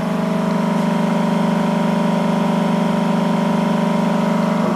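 A Bedini pulse motor with six circuits and three coils, an 8-inch rotor, spinning at high speed: a steady, loud mechanical whine with stacked tonal hum and a fast even buzz throughout, no voices.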